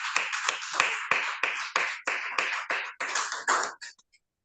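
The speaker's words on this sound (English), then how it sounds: "Please let's give him a round of applause" Toastmasters club members applauding an evaluator, heard as a string of about ten distinct, fairly loud claps in a steady rhythm, slowing and stopping after roughly four seconds, with no talking.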